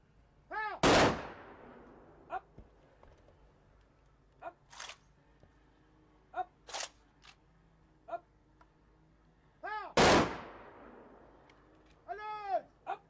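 Rifle volleys fired as a gun salute at a state burial, with two loud, sharp shots far apart and each one echoing, while shouted drill commands and crowd noise carry between them.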